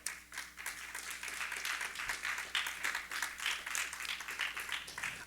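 A church congregation claps in a steady rhythmic beat, many hands striking together in regular pulses over a low background hum.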